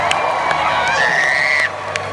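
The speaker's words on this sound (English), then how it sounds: "Clapping for you, man." Rodeo crowd roaring with cheers, whoops and clapping, a dense loud wash of voices with a rising shout that cuts off near the end.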